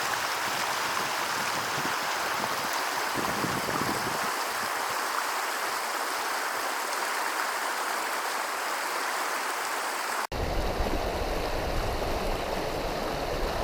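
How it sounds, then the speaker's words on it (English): South St. Vrain Creek in Colorado rushes steadily over rocks, a continuous broadband water roar close by with no voices, dipping briefly before resuming. "This is the South St. Vrain Creek, one of my favorites."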